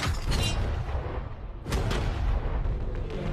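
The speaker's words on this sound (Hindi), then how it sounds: "ये 5 टैंक्स पैसों पर निशाना लगाकर 20 राउंड फायर करने वाले हैं।" Tank cannons firing rounds at a pile of cash, with two loud, broad booming blasts, the second about a second and a half after the first, each trailing into a rumble.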